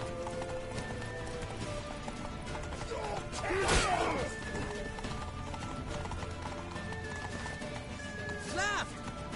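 A horse gallops with rapid clip-clop hooves in the video game The Witcher 3, under a steady wash of game sound effects and music, with a louder crash partway through.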